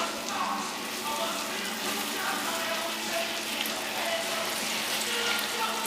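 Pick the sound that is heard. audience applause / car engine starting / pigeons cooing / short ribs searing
short ribs searing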